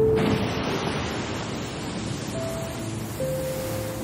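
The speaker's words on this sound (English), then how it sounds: "It's like a nice little waterfall." Steady rushing water from a waterfall in the video game Spirit of the North pours continuously, a broad hiss, with faint tonal game sounds drifting in over it.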